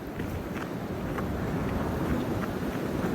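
Strong wind buffets the microphone in a continuous loud roar on an open outdoor lookout during a thunderstorm, with faint irregular ticks and rustles beneath it.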